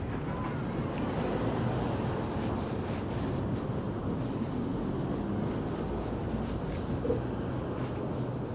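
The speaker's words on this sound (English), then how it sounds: "Oh, the wind's picked up." Wind blowing at the seafront in Porthcawl, a continuous loud rushing roar buffeting the microphone for the whole stretch, steady with no breaks.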